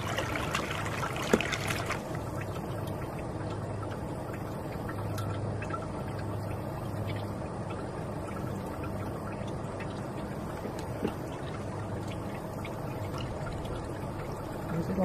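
Water trickling and pouring steadily into the reservoir of a DIY grow system, a faint continuous flow with small clinks, close and low in level.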